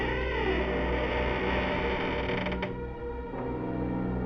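A horror cartoon effect of a door shutting by itself: a long, drawn-out creak of hinges grinds and wavers for several seconds, loud and close. It ends in a couple of sharp clunks, with eerie distorted undertones beneath.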